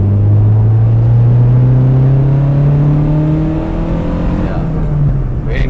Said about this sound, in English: We've got an aftermarket exhaust too, which is the sound you can hear there.